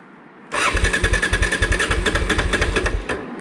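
A Honda motorcycle engine cranks and then runs, a close, loud, steady pulsing chug with a regular beat after a quiet start, no talking.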